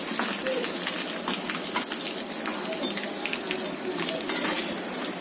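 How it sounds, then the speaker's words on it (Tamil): Snacks frying in hot oil over a low flame, a steady dense sizzle with crackling bubbles that stays close and constant, with no voice over it. "எண்ணெய் சுட வச்சு குறைய தீயில அதை வறுத்து எடுக்கணும்"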